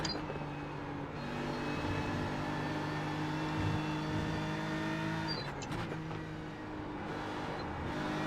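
A GT3 race car engine in iRacing on the Watkins Glen circuit holds a steady, droning tone with gear and throttle changes partway through, moderately loud and continuous, with no voices.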